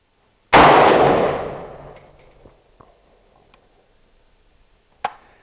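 A Century Arms C93 Sporter rifle fires one loud, sharp shot that rings out and decays over about a second, followed by faint clinks and a second, smaller sharp click a few seconds later.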